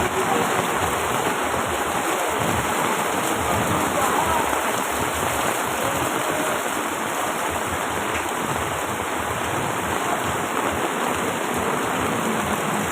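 Heavy rain pours steadily and loudly in Tondo, Manila, a dense continuous hiss with no pauses, as if falling hard on nearby surfaces.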